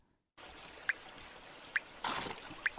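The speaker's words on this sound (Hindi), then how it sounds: "ये बारिश तो रुकने का नाम ही नहीं ले रही है। छत से कितना सारा पानी आ रहा है।" Rainwater in a cartoon drips and pours from a roof, with a steady watery rush and three sharp, evenly spaced drops landing close by.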